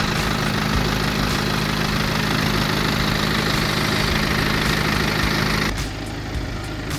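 A 2013 BMW 520d M Sport diesel with about 203,000 km idles, heard up close in the open engine bay. It makes a steady, loud, even drone that drops slightly in level near the end.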